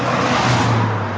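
Cars speed past on a road beside a slow-moving vehicle, a steady loud roar of traffic with tyre and engine noise throughout, no voices.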